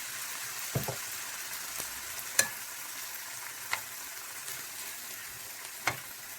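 Tomato sizzles in a frying pan while being stirred, a steady soft frying hiss with several scattered clicks and knocks from the spoon against the pan, fairly quiet and without talk.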